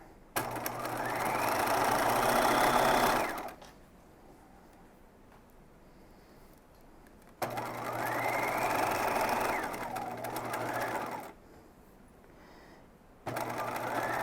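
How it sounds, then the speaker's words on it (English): A sewing machine runs in two long steady passes topstitching a dress facing, its whirring stitch rising and holding for several seconds before stopping, then starting briefly again at the end. "you're going to keep stitching at 1 inch all the way to your shoulder seam and then pivot"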